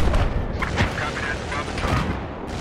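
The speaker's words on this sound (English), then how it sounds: "That's a fucking tank right there." A tank firing in Battlefield 4 multiplayer: loud, dense booming blasts that blur into a continuous rumble across the whole moment.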